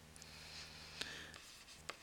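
Marker or chalk writing on a board during a math lesson, soft squeaky strokes and taps over a steady low hum, a couple of sharper clicks near the end, no speech.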